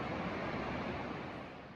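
A river rushes beside the Appalachian Trail, a faint, continuous broadband wash of flowing water heard alone, with no talk.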